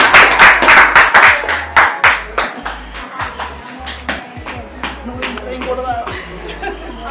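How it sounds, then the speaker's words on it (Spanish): Guests at a wedding ceremony clap in a lively, uneven burst of applause that gradually thins out, with voices mixed in underneath. "Un aplauso, para las palabras."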